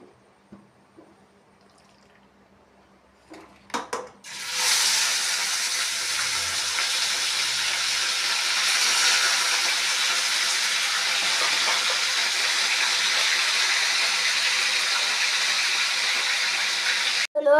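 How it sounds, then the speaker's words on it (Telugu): Mutton pieces drop into hot oil after a few quiet clinks and a couple of thumps, and a loud, sustained, close hissing sizzle erupts and continues steadily to the end. "ఆయిల్ వేడి అయిన తర్వాత మటన్ వేయాలి."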